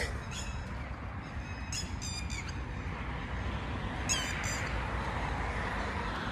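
Several birds squawk and caw in short bursts, some clustered calls, over a steady background hiss outdoors in a cemetery.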